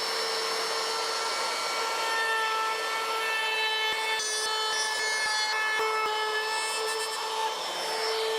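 Steady, close rasping as mahogany edges are rounded over by hand with a tiny diamond pick, with a continuous tonal hum running underneath.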